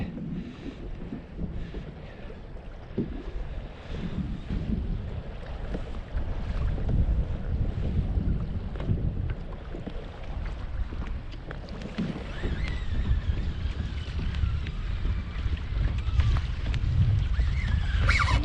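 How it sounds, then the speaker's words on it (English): Strong gusting wind on an open fishing boat out on the water, a steady loud roar of wind buffeting the microphone with low rumble and water noise, continuous throughout with no talking. "This wind really cranked up"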